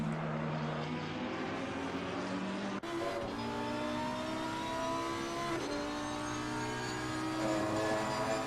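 A Lamborghini GT3 race car engine in the ACC racing game, set at Paul Ricard, sustains a loud, high-pitched roar with sharp gear-shift drops and rising revs, close and continuous with no talking.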